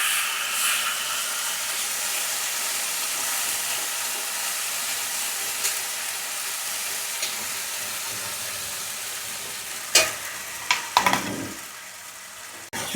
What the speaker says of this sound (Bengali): পেস্ট করা হয়েছে সেই মশলাটা দেওয়া হচ্ছে আস্তে আস্তে। দেখুন দিয়ে এটা ভালো করে নাড়াচাড়া করবে।